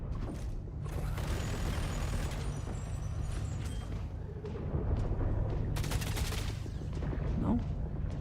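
Gunfire from a Star Citizen firefight, with irregular bursts of shots and mechanical clanks over a steady low hum, sharp cracks clustering around the middle and near the end.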